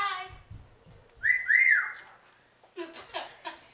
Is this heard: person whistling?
yes